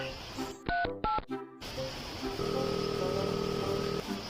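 A telephone keypad sounds two clear tone beeps and then a quick run of dialing tones, followed by a steady buzzing line tone. The tones are fairly quiet.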